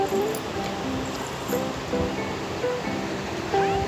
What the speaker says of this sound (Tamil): அதையும் போட்டு நல்லா ஃப்ரை பண்ணிக்கோங்க.